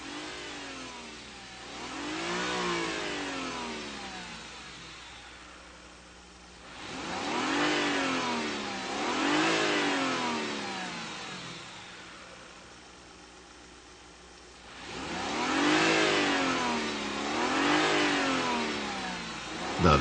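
A Mazda MX-3 engine revs up and falls back in three repeated sweeps, each climb and drop clearly heard between quieter idling stretches, with no voices.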